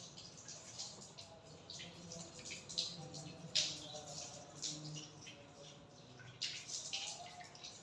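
Water pours and splashes over an arm during wudu ablution, a steady running trickle with irregular splashy bursts, close and moderately quiet, with no talking.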